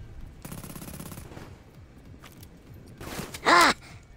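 Bursts of automatic gunfire in the shooter Black Ops III, with a rapid rattling volley early on and a louder, sharper burst near the end over low background game noise.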